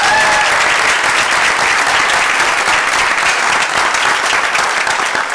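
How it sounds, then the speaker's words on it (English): Audience applause fills a 2017 incubator pitch night, a dense, loud, steady wash of clapping from a large crowd that holds throughout with no pauses. "Round of applause."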